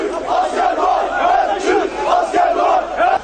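Crowd of party supporters in Istanbul roaring and shouting as surrendering soldiers are led away, a dense, loud, continuous mass of voices with surging chants.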